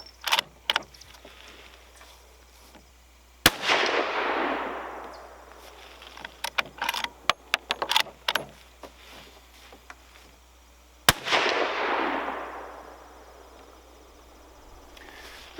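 Two sharp rifle shots from a Savage Axis II chambered in 350 Legend, each a loud crack with a long rolling decay, spaced several seconds apart with faint outdoor handling noise between.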